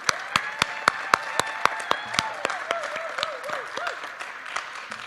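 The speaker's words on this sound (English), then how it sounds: "let's get a big round of applause for all the contestants this morning" Applause from an audience at a Poetry Out Loud recitation contest: a run of distinct, fairly evenly spaced claps, crisp and close, with a faint steady hum underneath and no talking.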